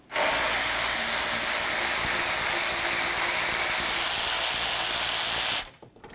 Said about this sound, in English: Next we're going to remove our three 10mm headed mounting bolts.